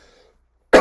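A single short, sharp cough from a man, close and loud after near silence.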